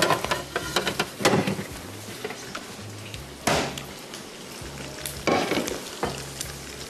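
Gosht for bhuna gosht fries in hot oil with a dense, close sizzle, and sharp bursts of stirring or spoon strikes every second or two.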